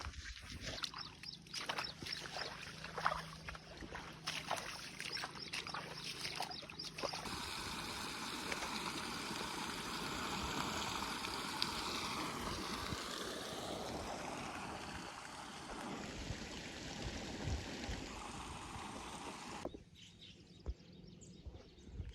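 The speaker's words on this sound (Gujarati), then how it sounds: "ડાંગરમાં પાણી ચાલુ છે અને આ જો પાણી પડે છે" Water flows steadily into a paddy field, a continuous broadband rush that swells in the middle and eases off near the end, heard close with faint background noise around it.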